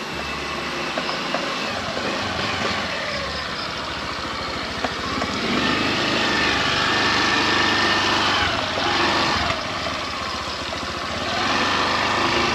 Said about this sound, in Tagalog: Hirap yung motor talaga